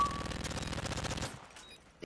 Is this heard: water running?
no